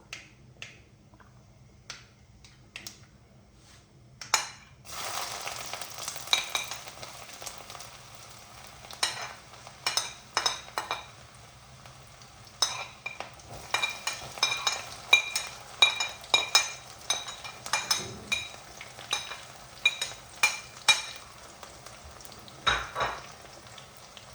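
Chopped ginger, garlic and green chilies crackle in hot oil for grape pickle, sharp irregular pops and spits over a quiet sizzle, growing busier midway, with occasional utensil clinks.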